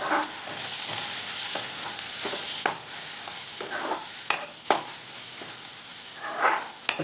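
A paste of peanuts, sesame seeds and cumin frying in oil, a steady close sizzle with intermittent scrapes and taps of a spoon stirring against the pan.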